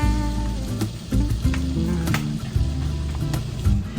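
Sweet potato waffle batter cooks inside a closed waffle iron with a steady, close sizzle, under tonal humming background sounds and a few soft clicks and knocks.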